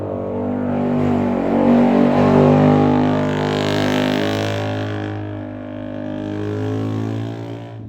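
A motorcycle with a loud modified exhaust revs hard nearby, a deep, harmonic-rich engine roar that swells and holds, then eases slightly before rising again, alone without talk.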